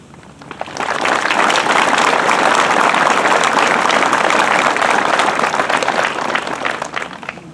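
An audience claps for Honor Flight veterans at a North Country gathering. The applause swells in within the first second, holds loud and dense for several seconds, then eases slightly toward the close.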